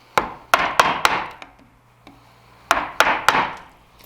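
A chisel struck by a mallet chopping out a brace mortise in a timber frame beam, two bursts of sharp wooden knocks, four then three blows, close and loud with ringing decay and no talk.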